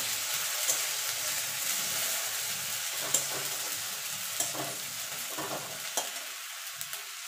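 Ginger garlic paste frying with onion in a pan, a fairly quiet, even sizzle with occasional light stirring scrapes and taps, thinning out near the end.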